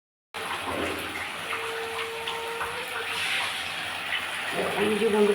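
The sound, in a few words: water poured into frying lentils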